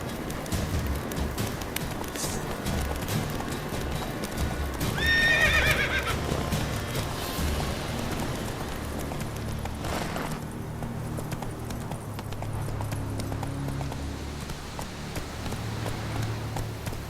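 Geralt's horse Roach running in The Witcher 3, with quick hoof clip-clops over ground, a clear whinny partway through, and an ambient game background underneath.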